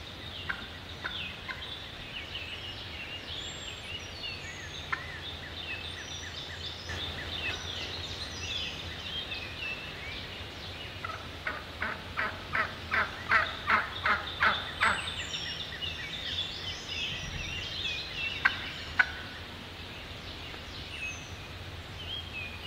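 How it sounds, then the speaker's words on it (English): Wild turkeys call outdoors during a spring turkey hunt. A hen yelps in a rapid rising series in the middle, and gobbles and clucks come from a moderate distance over quiet, rustling surroundings. "when I saw that hen coming down the road yelping"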